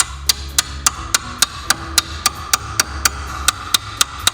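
Steady hammer blows strike car brake parts on a Volkswagen Mk4 Golf VR6 4Motion, about four sharp metallic hits per second in an even rhythm, loud and close with no talking.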